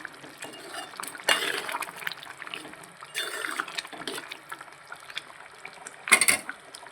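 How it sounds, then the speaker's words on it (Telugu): Ivy gourd masala curry bubbling in a covered pot, a steady soft liquid seethe broken by a few louder gurgling or clattering bursts, close by with no talk. "బాగా ఉడుకుతుంది"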